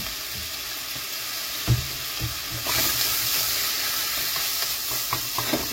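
Food sizzles and fries steadily in a hot pan while it is being cooked down, with occasional stirring clatters and scrapes. The hiss grows louder partway through and continues close up with no talking.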